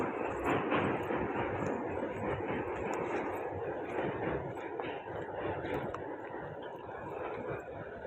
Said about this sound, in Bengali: ওদিকে দেখো ট্রেনটাও বেরোচ্ছে